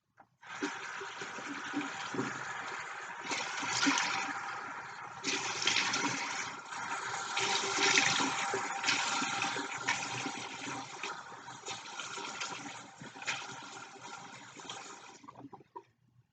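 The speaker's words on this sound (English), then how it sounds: "And then you rinse your face again." Water runs steadily from a tap during face rinsing, a continuous rushing splash with small swells, heard alone, that ends abruptly.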